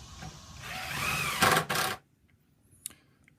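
Power drill pre-drilling screw holes in a wooden rail, a rising whine that peaks in two brief high-pitched bursts, then stops abruptly, followed by a faint click.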